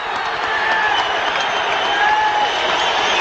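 An arena crowd at the Sugar Ray Leonard vs Thomas Hearns boxing fight applauds and cheers after the introductions. The roar is loud, dense and continuous, with whistles cutting through it.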